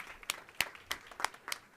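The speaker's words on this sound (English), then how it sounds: "Let's give them one more round of applause" Scattered, sparse hand claps at a county commissioners' staff meeting, about five separate sharp claps spaced evenly, faint and thin rather than a full round of applause.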